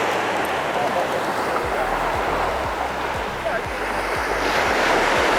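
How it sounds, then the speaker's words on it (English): Steady, heavy wind roars into the microphone with surf rumbling underneath, a constant blustery noise throughout, outside a beach resort on Mexico's Riviera Maya. "A little bit windy."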